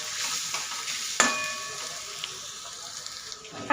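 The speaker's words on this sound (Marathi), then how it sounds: "इथं थोडीशी हिरवी मिरची टाकून घ्यायची, ती पण तेलामध्ये ना छान अशी परतून घ्यायची।" Green chilies sautéed in hot oil for a ridge gourd masala fry: a soft, steady sizzle with a sharp clink of the spoon against the pan partway through, then quieter frying.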